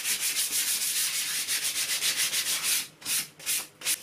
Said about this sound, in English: So a bit of 180 paper. Always use a bit of 180 or 240 between coats. And we'll just give this a quick rub.